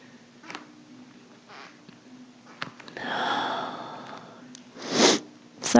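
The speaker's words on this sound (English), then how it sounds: "Sorry for all the sniffles." A person sniffles several times during a quiet gentle yoga session, with soft short nasal intakes early on and a louder, longer sniff near the end, close and without talk.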